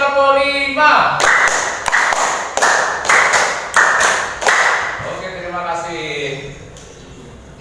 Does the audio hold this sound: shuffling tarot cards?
no